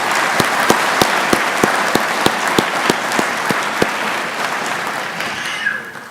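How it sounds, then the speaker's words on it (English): Graduation audience at a technical college ceremony gives a round of applause: loud, dense, steady clapping from a crowd for about five seconds, then tapering off abruptly near the end. "Please give them a round of applause."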